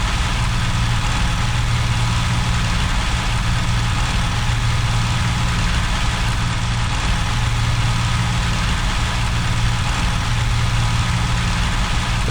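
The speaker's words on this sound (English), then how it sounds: "Engine sounding a little bit rough." The engine of a P-40 fighter plane in the IL-2 flight sim game runs rough, a loud steady low drone with a ragged pulsing texture that continues unbroken throughout, with no voices over it.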